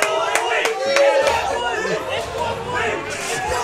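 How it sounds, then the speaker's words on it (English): Crowd at a Super Smash Bros. tournament set reacting with lively chatter and a few claps, a noisy mix of many voices rising and falling close by. "The crowd going wild."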